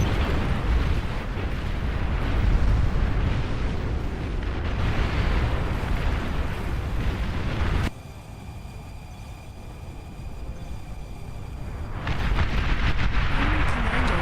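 A video game explosion goes off as an enemy commander is destroyed: a loud, dense, rumbling blast that holds for several seconds, drops to a quieter tonal hum, then swells back to a heavy roar.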